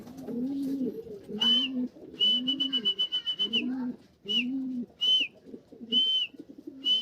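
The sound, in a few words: racing pigeon arriving at the loft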